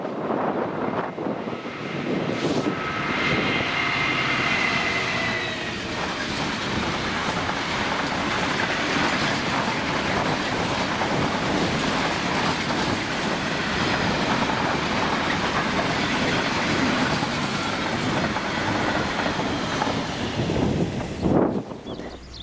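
A Class 66 diesel locomotive hauling an empty steel train rumbles steadily past at close range, a continuous loud roar with faint rhythmic clatter of wagons, fading slightly at the end.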